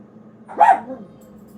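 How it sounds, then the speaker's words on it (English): A single dog bark in the background of a quiet indoor room, one short burst standing out from a low steady hum with no talk over it. "the noise of my dog barking in the background"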